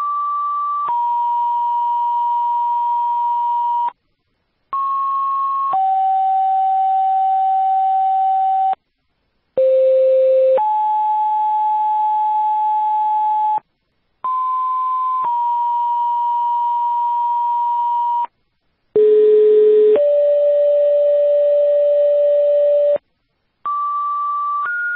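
Fire dispatch radio alert tones for a second-alarm house fire call in Swanzey, New Hampshire: a series of loud, steady paired beeps at changing pitches, separated by short silences, with no voices.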